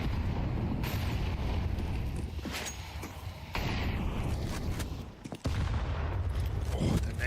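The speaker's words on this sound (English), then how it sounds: "Oh, the nades are brutal." Grenade blasts and gunfire in a Counter-Strike 2 match at a Major tournament, with several heavy booms and bursts of shots over a dense background roar, and a commentator talking over them.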